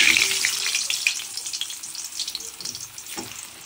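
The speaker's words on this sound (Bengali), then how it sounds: "আগে আলুগুলো ভেজে নিই, তেলটা আগেই তুলছি না।" Potatoes fry in reused oil in a home kitchen, giving a loud, continuous close-up sizzle with crackling pops and stirring throughout.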